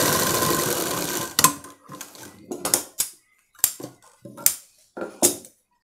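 A sewing machine stitches a lehenga, starting with a steady whirring run and then breaking into short, sharp bursts of stitching separated by pauses, loud and close.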